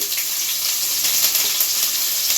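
Onions, green chillies and curry leaves fry for tomato rice in a steady, bright hiss of hot oil, close and unbroken throughout, with no talk over it.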